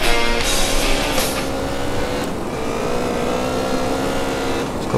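A car in GTA San Andreas multiplayer drives along with a loud, steady engine drone that shifts pitch slightly as it accelerates, and no voices are heard.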